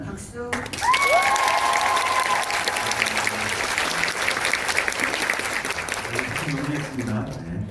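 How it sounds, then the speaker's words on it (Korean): Loud, dense applause from a cinema audience at a film screening and director's Q&A, sustained for several seconds before tapering off, with brief voices near the start. "재밌게 보신 만큼 큰 박수."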